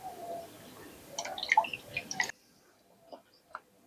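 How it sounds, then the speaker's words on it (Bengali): Water draining from rinsed raw potato slices, close wet drips and squishy splashes for about two seconds, then near silence with a couple of faint drips. "এগুলোকে আরেকবার ভালো করে ধুয়ে জল ঝরিয়ে নেব।"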